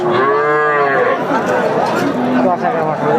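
A Sindhi-breed heifer calf about ten or eleven months old moos loudly and close by, one long drawn-out low call with rich harmonics. Faint background chatter sits under it.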